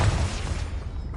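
A Confringo spell blast in Hogwarts Legacy: one dense, booming burst of fiery noise that fills the whole moment, loud and close, with no voice over it.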